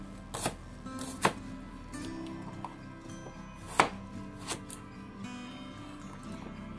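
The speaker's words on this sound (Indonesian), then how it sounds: "Nah, kita iris kasar aja bawang merah." Knife roughly chopping shallots on a cutting board for a large batch of Lamongan-style sambal, a handful of sharp, irregular knocks spread across a low kitchen background hum, with no talking.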